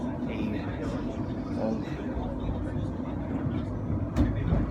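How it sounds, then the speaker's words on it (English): Steady low rumble of a Lisbon tram rolling along rails, with a brief louder clatter near the end; voices murmur faintly in the background. "Now I am on the tram"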